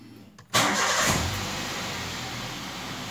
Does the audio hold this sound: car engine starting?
yes